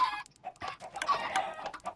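Chickens cluck in a video game, a quick run of sharp, close squawks and clucks that rise and fall in bursts across the two seconds, with nobody talking.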